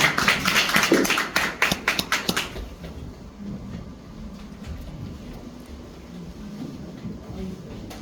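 Audience applause closing a panel talk event, a burst of dense clapping for the first two and a half seconds that dies away into quiet room tone.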